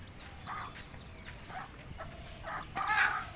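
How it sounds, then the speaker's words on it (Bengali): Outdoors after rain, young chicken chicks let out a few faint, thin peeps at intervals, with some soft clucking rising toward the end against quiet background noise. "মুরগি বাচ্চা দেখেছ?"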